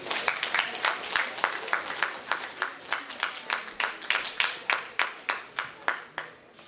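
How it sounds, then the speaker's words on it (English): An audience gives a round of applause at an event with an African drumming group, a sparse series of clear individual claps in a quick, fairly even rhythm. "Give him a round of applause, please."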